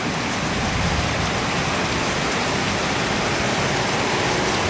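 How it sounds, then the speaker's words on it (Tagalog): Heavy rain pours steadily in Tacloban, Philippines, a dense, loud hiss of water drumming on surfaces with no break and no voices. "lakas ng ulan"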